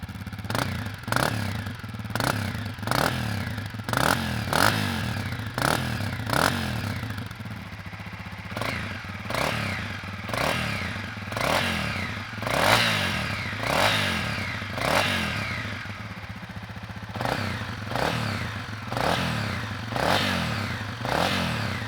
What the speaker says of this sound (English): Now let's start the bike up and show you what it sounds like